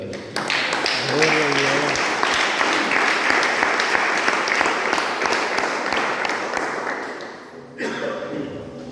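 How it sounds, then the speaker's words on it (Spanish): A church congregation gives loud, sustained applause at a Spanish-language sermon. Dense clapping fills most of the clip, a brief voice shows through near the start, and the applause fades as a speaker's voice returns at the end. "Denle fuerte aplauso al Señor."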